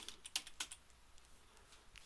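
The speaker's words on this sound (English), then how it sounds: "I'm just typing it in" Typing on a computer keyboard while entering a CAD command, a quick run of light key clicks followed by sparser taps, faint and close, with no voices.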